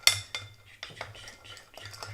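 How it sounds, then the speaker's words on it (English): A bar spoon stirs a bourbon cocktail over ice in a mixing glass, giving a sharp opening clink followed by a run of soft, repeated clinks and scrapes of ice, close and fairly quiet. "I'm stirring over ice"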